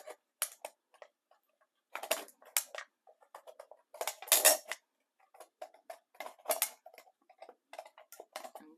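Scissors cutting the top off an aluminum can: irregular bursts of snipping and crinkling metal, close and crisp, separated by short pauses, with no talk.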